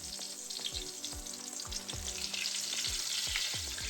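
Eggplant omelet (tortang talong) frying in oil in a pan, with a steady close sizzle and a regular series of low thumping taps.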